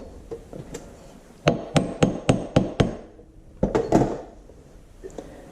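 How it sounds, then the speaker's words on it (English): A hammer taps during a PTO primary gear and main clutch throw-out bearing install on an IHC Farmall Super MT tractor. Five quick, evenly spaced metallic taps ring close, then a few more irregular knocks follow after a short pause. "Another couple taps."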